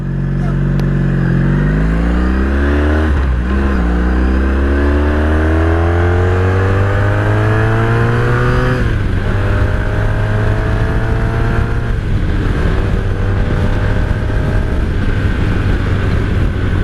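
A 1983 Honda Sabre VF750S motorcycle accelerating hard, its engine note climbing loudly and dropping at each upshift through several gears, with strong wind rush building as speed rises.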